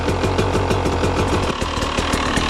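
A KTM 300 TBI two-stroke motorcycle engine idles steadily while warming up, with a fast, even, slightly knocking pulse, close and constant throughout.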